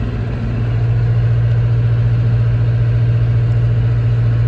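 Heavy tractor engine idling in a yard, a loud, steady low-pitched drone with a constant rumbling throb, running alone without pause.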